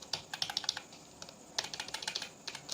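Fast typing on a computer keyboard while making a YouTube thumbnail: two close bursts of crisp, rapid key clicks separated by a short pause, with no talking.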